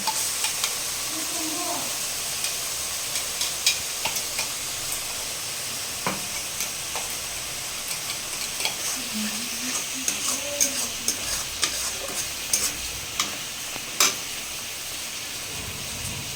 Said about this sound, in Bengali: এখানে যে কাঁকড়া ভাজা চলছে এখনও কমপ্লিট হয়নি